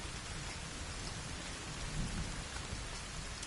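Steady, dense rain pours outdoors with a low rumble of thunder underneath, a continuous wash of sound with no voices.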